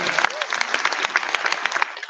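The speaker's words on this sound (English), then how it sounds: "a big round of applause" A congress opening ceremony crowd gives a big round of applause, a loud, dense wash of clapping with cheers and voices mixed in, sustained throughout.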